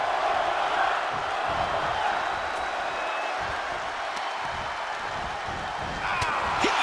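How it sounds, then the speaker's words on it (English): A loud arena crowd at a VVW wrestling match, a dense constant roar of voices with scattered shouts and occasional thuds, sustained throughout. "you can't hear yourself think because the crowd's so loud"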